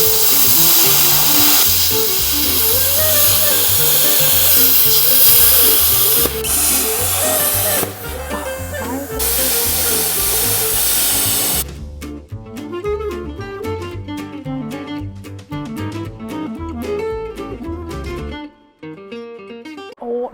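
A plasma cutter slices through metal on a car project, a loud, hissing spray lasting about eleven seconds with brief breaks, then stopping and starting in shorter, choppier bursts close by, with no talking.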